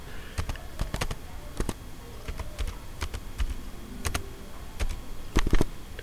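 Someone types a GST number on a computer keyboard. The keystrokes come as sharp, close, separate taps in short uneven groups, with no speech.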